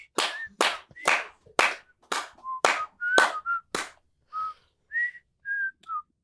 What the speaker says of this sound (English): I'm gonna get the Andy Griffin whistle for when you do that in a minute.